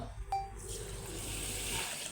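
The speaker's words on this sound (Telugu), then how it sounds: "వీటిని కూడా శుభ్రంగా వాష్ చేసుకుందాం" Water swishes and runs continuously as idli rice is washed in a kitchen, a close, steady liquid sound with a brief clink at the start.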